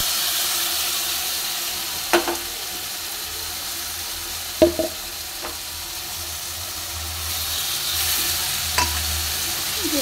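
Spice masala frying in a pan with steady sizzling and hiss, broken by a few sharp clinks and scrapes of a stirring spoon, close and without talk.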